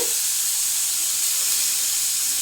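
Fenugreek leaves frying in a pan, a steady dense sizzle and hiss throughout with no break and no talk.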